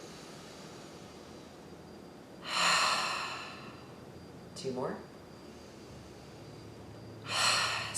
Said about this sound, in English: back to your natural ujjayi breathing